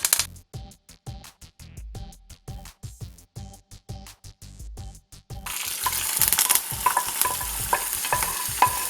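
Curry leaves dropped into hot oil for a Kerala-style raw mango fish curry, starting with sharp stirring taps and scrapes, then breaking into a bright, steady sizzle and crackle.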